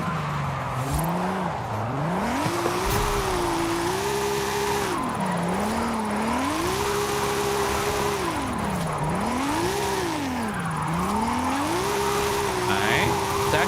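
BMW drifting through corners in Forza Horizon 5 with a steady engine drone whose pitch sweeps up and down as the car revs and slides, joined by continuous tire noise, loud and close throughout.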